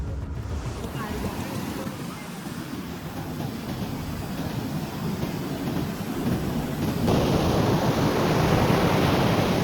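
Big sea waves crash and surge on the shore at Dwarka in a continuous loud roar, with wind rumble, growing heavier near the end.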